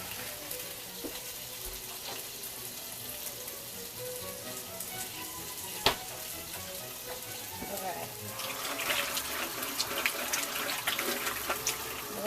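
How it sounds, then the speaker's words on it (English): Tap water runs into a sink while someone washes their hands with soap, a steady close hiss and splash that grows louder and busier toward the end, with a sharp clack midway. "Washing my hands, y'all."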